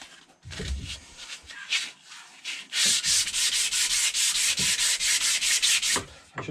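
Worn 80 grit sandpaper rubs over a wooden handle for a block splitter in a workshop, starting with a few scattered strokes and then settling into steady, fast back-and-forth scrubbing that is close and fairly loud, with no talking.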